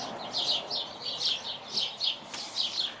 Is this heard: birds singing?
yes